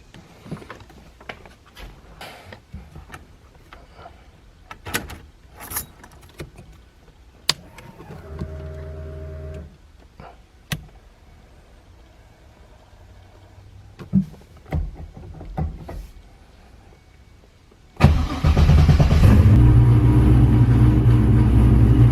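After quiet clicks, clunks and a brief whir, a car engine fitted with an Accusump oil accumulator suddenly starts and settles into a loud, steady idle.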